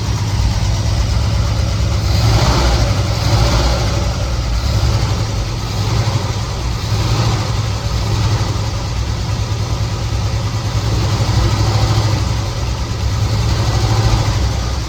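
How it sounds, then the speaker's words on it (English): A 1969 Chevelle SS V8 that sat for 37 years idles roughly with one cold cylinder, a steady, close, continuous low rumble with an uneven pulse and no voices throughout. "You can see the motor's not running near as smooth as it should"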